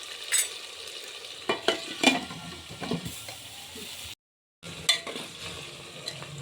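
Potatoes frying in oil sizzle softly while a utensil scrapes and stirs with scattered clinks, briefly dropping to silence midway.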